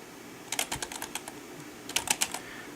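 Keys clatter on a computer keyboard in two quick bursts of crisp clicks, close and fairly quiet, with a short pause between the runs and no talking.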